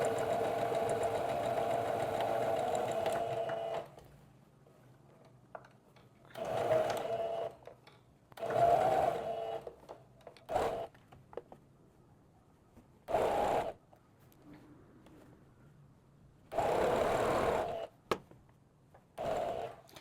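A home sewing machine runs a tight curved seam on a blouse, with a long steady stretch of stitching followed by several short, slow bursts separated by quiet pauses, close up.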